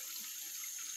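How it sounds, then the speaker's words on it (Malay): Water from a small river stream on rural land in Ulu Tamu, Batang Kali, Selangor flows with a steady, soft hiss, faint and continuous throughout. "Ada 2 sungai, 2 cabang sungai dalam tanah ni."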